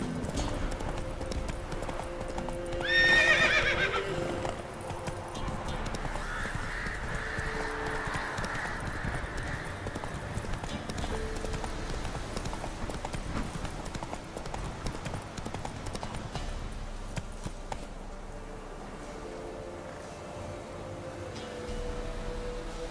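Roach the horse gallops in The Witcher 3 video game, with a steady stream of hoofbeats under ambient game sound and music, a short burst of louder noise near the start, and hooves continuing at a moderate level.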